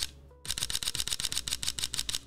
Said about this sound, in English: On the Sony ZV-E10, can you turn the shutter sound off?